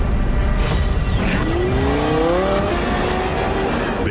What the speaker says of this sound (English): Based on the progressive roar of the engine.